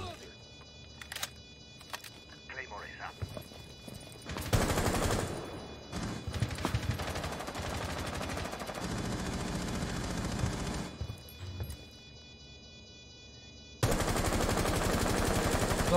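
Automatic gunfire in Rainbow Six Siege comes in several sustained bursts of rapid shots, fairly loud, separated by quieter gaps.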